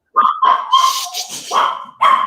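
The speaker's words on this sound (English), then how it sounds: "I have dogs here." Dogs bark nearby in loud, sharp bursts, a couple of yelps, a pause, then another bark, with no talking over them.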